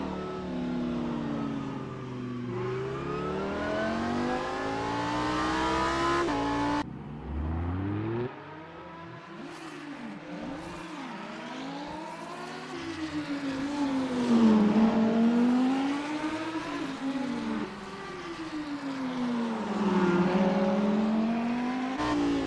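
Onboard a number 174 Lamborghini Super Trofeo race car at Detroit, the engine screams loudly through the gears, climbing in pitch then dropping sharply at upshifts and braking, with repeated rising and falling sweeps as the car accelerates and slows through corners.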